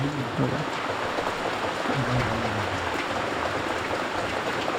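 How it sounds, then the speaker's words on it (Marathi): Steady heavy rain pours without pause in Konkan, a dense broadband hiss, with faint low voices murmuring underneath now and then. "पाऊस पडतोय आणि चहा प्यायचा ब्रेक झालाय चहा प्यायला या पावसाने जोर धरला"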